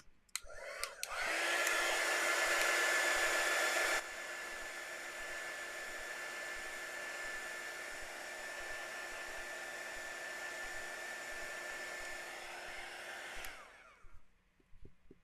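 A hair dryer blows on a freshly painted Christmas ornament, switching on with a click and a loud steady whine, dropping to a lower setting after a few seconds, then running evenly before clicking off.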